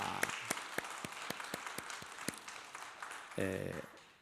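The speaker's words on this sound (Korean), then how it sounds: "우리 한번 박수로 환영해 주시면 좋겠습니다." A church congregation applauding to welcome a young couple, a quiet scattering of individual claps spaced unevenly and fading, with a brief tonal sound near the end and no clear speech.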